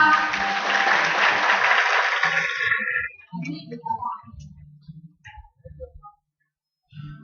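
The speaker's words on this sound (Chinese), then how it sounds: "好棒，给自己一个掌声吧" A crowd of participants at a middle-school camp claps for about three seconds, a dense burst of applause that fades, followed by scattered voices and chatter.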